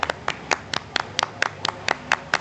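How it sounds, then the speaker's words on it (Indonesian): A small group of people clap hands on a podcast, about a dozen distinct sharp claps in a loose irregular rhythm, close and clear with no talking over them. "Tepuk tangan dulu"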